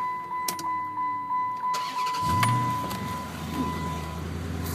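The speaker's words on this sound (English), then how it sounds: "I'll go out here, and I'll start it back up" A 2010 Chrysler 300S starts up: a few clicks, then the starter cranks briefly and the engine catches into a low, rumbling idle, close and fairly loud, with no talking.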